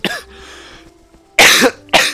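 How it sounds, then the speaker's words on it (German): A man coughs hard and close during a German Let's Play of Wizard101, one sharp cough followed after a quiet pause by a harsher double cough, loud and isolated. "wenn mich zum Lachen bringst, muss ich immer husten, Mann."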